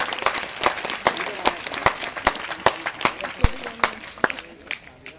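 An audience at a Srimad Bhagwat katha gathering claps, giving sharp, spaced hand claps in a loose rhythm with some overlapping, fairly close.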